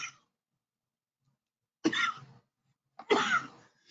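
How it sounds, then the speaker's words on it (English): A woman gives two short, muffled coughs a second apart after a brief breath, each clipped and held back, in an otherwise quiet room. "She stifles a cough while holding up a finger."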